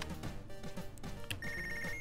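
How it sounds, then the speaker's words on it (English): A video game telephone rings in short electronic trills, a repeating tone pattern over busy game music, fairly quiet and without speech. "We have a phone call."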